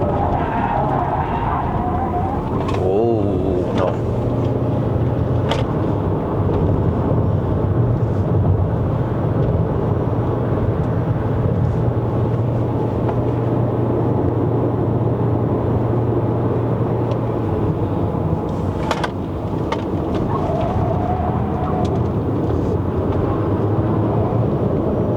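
A 2024 GWM Haval H6 HEV hybrid in Sport Mode climbs uphill toward Genting, Malaysia, its engine giving a steady, loud drone under the cabin with road rumble for the whole stretch, no talk over it.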